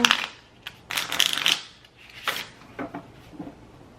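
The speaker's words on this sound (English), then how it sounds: "We're going to pull from the Animal Spirit deck here. I'm going to shuffle." An Animal Spirit oracle card deck is shuffled by hand in a series of crisp, papery riffles and slides, close and irregular, with quieter gaps between bursts.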